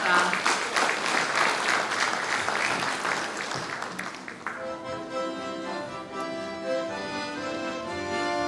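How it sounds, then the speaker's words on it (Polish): A crowd at a Lemko cultural gathering applauds young child performers, with dense sustained clapping that fades after a few seconds while music starts underneath. "Wielkie brawa, łastwowczata!"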